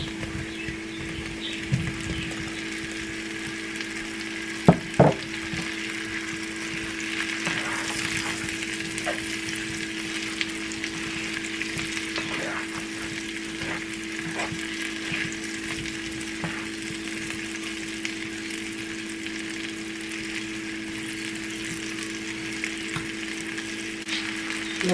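Baby cambray potatoes fry in a pan with garlic, giving a steady, close sizzle broken by occasional clinks and scrapes of stirring.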